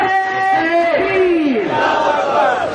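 A large crowd at a religious gathering chants slogans in unison, a loud collective cry rising and falling for a few seconds, with voices swelling together.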